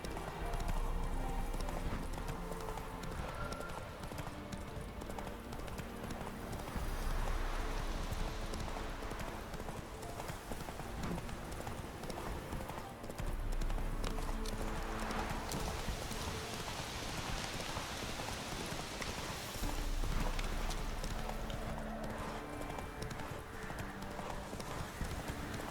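Horse hooves clip-clop steadily at a gallop in The Witcher 3, running continuously at moderate loudness over rain pattering and game ambience.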